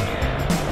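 Dense road traffic on EDSA with cars and motorbikes, heard as a steady broadband vehicle rumble with a low engine drone close by, no voices over it.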